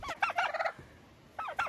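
Turkeys gobble in a poultry house, two quick rattling calls close by separated by a short pause, with faint background shuffling.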